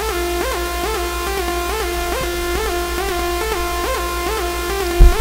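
An electro house synth lead built in LMMS with ZynAddSubFX plays a rhythmic pattern of bright, buzzy stacked notes that repeat in pulsing phrases over a steady low tone, alone and fairly loud, with a brief thump at the end.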